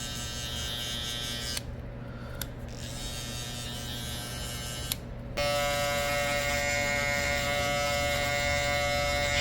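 Electric hair clippers during a taper haircut give a close, continuous buzzing hum that briefly dips twice, then resumes slightly louder and higher-pitched, with no talking.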